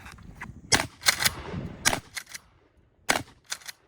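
A Mossberg Maverick 88 shotgun fires target loads at a cardboard box on a shooting range. Several sharp, cracking reports come in irregular bursts with quiet gaps between them, and no one speaks.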